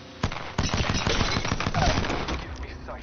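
Rapid automatic fire from the Havoc rifle in Apex Legends, a long stream of loud, closely spaced shots with a few short breaks.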